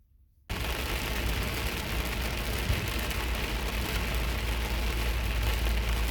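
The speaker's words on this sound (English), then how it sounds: "this is a video that I took of going to work in a very heavy rainstorm" Heavy rain pours in a dense, loud, steady roar against a car while driving to work in a rainstorm, starting abruptly after a brief quiet moment.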